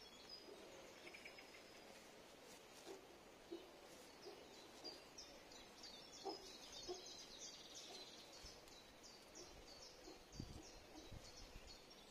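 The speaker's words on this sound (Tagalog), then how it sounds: "Naririnig niyo ba yung mga ingay ng ibon?" Birds call and chirp outdoors in a quiet setting, scattered short tweets near and far over a faint background of insects, the whole scene soft and distant.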